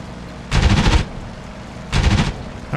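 Aircraft cannon fire in the DCS flight sim: two loud sustained bursts of rapid shots, each lasting about half a second, separated by a pause, with a third burst starting at the end, close and alone without talk.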